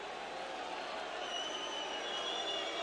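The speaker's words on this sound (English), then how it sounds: "Why are they booing him now and whistling?" Live darts crowd at the World Championship booing and whistling, a steady continuous roar of many voices with thin sustained whistles rising above it in the second half.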